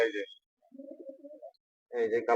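A soft, low pigeon coo sits between two short bursts of nearby talk at a pigeon market.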